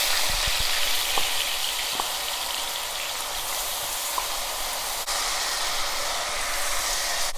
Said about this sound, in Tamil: இப்போ ஆயில் ஹீட் ஆயிடுச்சு. ஒரு வெங்காயம் எடுத்து அரைச்சி வச்சுருக்கேன், அதை ஆட் பண்ணுறேன்.